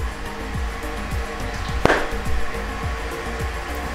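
Microsoft Surface Duo phone folding shut, one short, crisp click standing out near the middle over a steady mechanical hum with faint rhythmic background ticks.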